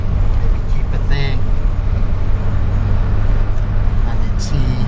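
VW Citi Golf driving on a freeway after an oil pump fitting, engine held near 3,000 rpm: a steady low engine drone with road and traffic noise throughout, and brief speech underneath.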